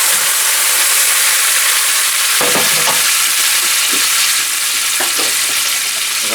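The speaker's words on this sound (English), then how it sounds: "I'm gonna add 2 ounces of wine to my pan that I have with where I have my pork resting, and I'm gonna deglaze it here." Wine poured into a hot pan holding resting pork sizzles in a loud, dense, unbroken hiss, with scattered scraping and stirring knocks rising above it.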